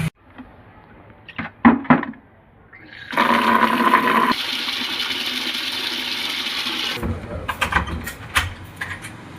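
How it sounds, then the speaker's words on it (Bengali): Water is poured onto a flowering potted plant in a steady, fairly close stream that runs for about six seconds, after a few short handling knocks. "তো চলো একটু জল দিয়ে দিই গাছটায়।"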